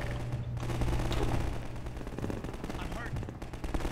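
Rapid gunfire in Half-Life 2, loud and close, a dense automatic burst with heavy reports running for several seconds.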